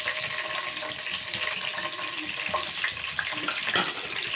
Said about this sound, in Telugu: ఆయిల్ హీట్ ఎక్కింది కదండి పచ్చిమిర్చి వేసుకుందాం ఇవ్వండి పచ్చిమిర్చి వేస్తున్నాను